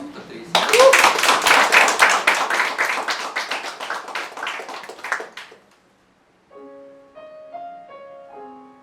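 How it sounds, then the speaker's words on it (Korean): An audience applauds after the final song at a concert, a dense burst of clapping that fades out, followed by a few gentle piano notes. "큰 박수 부탁드리겠습니다."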